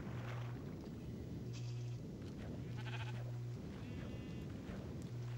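Minecraft sheep bleat repeatedly in short wavering calls at irregular intervals, clear and up front against game background sounds, with no talk.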